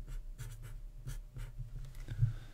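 A pen writes on a paper math game board, giving quick scratchy strokes in short bursts close by, with small pauses between words.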